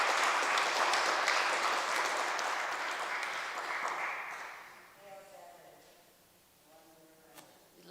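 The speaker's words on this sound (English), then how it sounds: "Can we give Devin's mom a round of applause, please?" An audience at a community town hall event claps, loud and dense at first, then thinning and fading out after about four seconds, leaving quiet room sound and a voice speaking near the end.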